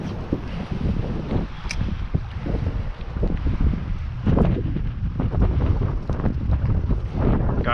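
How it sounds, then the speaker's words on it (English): Strong gusts of up to 40 mph batter the microphone on a fishing boat out crappie fishing, a loud continuous rumbling roar with buffeting surges throughout and no speech. "I'm casting into the damn wind"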